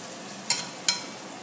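Thinly sliced onion cooks in a pan with a low, steady sizzle, broken by two quick scraping stirs close by.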